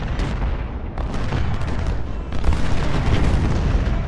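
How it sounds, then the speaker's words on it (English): Civil War artillery cannons fire in the video game Ultimate General: Civil War, sounding as a dense, continuous rumble of booms and blasts that swells louder midway through. "So this is going to be an artillery fight now"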